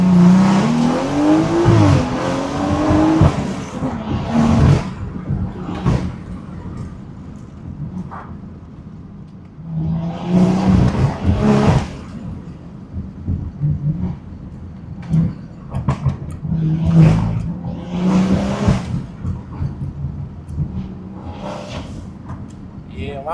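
A BMW 340i revs and accelerates hard on a mountain road, its engine rising and falling in repeated surges with some tire noise, while someone talks over it inside the car.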